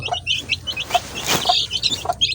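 Young chicks being treated for coccidiosis gather at medicated water, filling the space with continuous, loud, close high-pitched peeping and cheeping in quick overlapping bursts.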